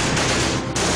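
Gunfire breaking out again in a documentary reenactment of the Black Hawk Down battle, a loud dense burst of rapid shots filling the whole second with only a brief dip near the end.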